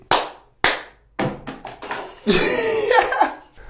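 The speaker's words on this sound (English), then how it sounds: "Give me a little clap." A few sharp, close single hand claps spaced apart, followed by a burst of louder sound with voices and laughter near the end.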